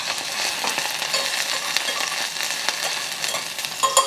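Ginger and the white parts of green onion sizzle in a hot pan for a Cantonese dish, a steady close crackle with small pops throughout.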